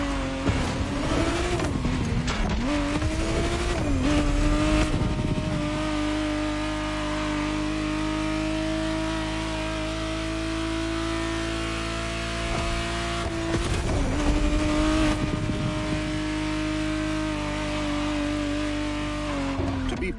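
Ferrari 512 TR, the 1991 re-engineered Testarossa, in the racing game The Crew Motorfest: a steady, loud engine drone with rising revs at the start and a second surge of acceleration midway, no voices.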